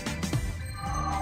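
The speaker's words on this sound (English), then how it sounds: "The phone's ringing, so I have to go pick that up." A telephone rings in the room during a MapleStory gaming session, its bell tone fairly faint and slightly distant over a steady background hum, with a few short bursts followed by a sustained ringing tone, and no one talking.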